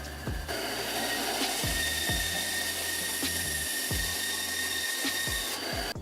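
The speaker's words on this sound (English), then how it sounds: "I took everything over to my belt sander and I sanded everything down" A belt sander grinds down small wooden puzzle pieces for a mini cutter cylinder puzzle, a steady, loud, rasping whir that runs without a break and carries faint repeated knocks from the wood meeting the belt.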